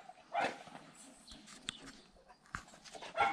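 Dog barking outdoors near a calm draft mare, a few short sharp barks scattered over quiet background, moderately close, with faint rustling between them.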